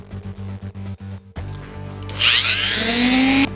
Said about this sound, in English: Get another drill bit that's a bit more flat, and then we can start flattening this surface.